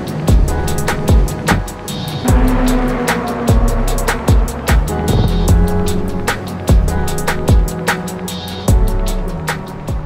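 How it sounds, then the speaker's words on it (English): A Ferrari LaFerrari hybrid supercar with 950 horsepower drives hard on a race track. Its engine roars loud and close, broken by a series of sharp, rapid bursts and rising revs. "we are in the LaFerrari with Mr. Forey. Super excited to be out here to unleash the 950 horsepower of this hybrid beast."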